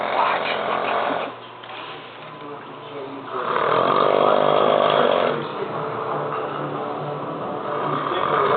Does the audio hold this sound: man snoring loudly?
yes